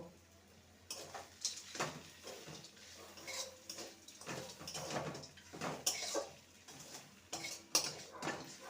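Crumbled fried bori is stirred into beto greens in a pan, with repeated close metallic scrapes and clinks of a spatula in an irregular rhythm and faint speech in the background.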